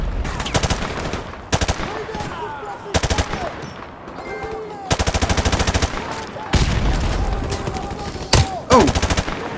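Automatic and single gunfire bursts from Modern Warfare Remastered, a first-person shooter game, come in repeated loud volleys with short gaps between them. Excited talk and shouting run underneath.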